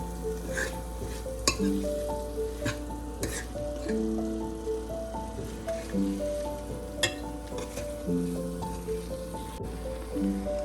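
Peas fry with potatoes in spices in a Punjabi aloo gajar matar sabzi, sizzling steadily while a spoon scrapes and clinks against the pan in irregular strokes, close and moderately loud, with no talk.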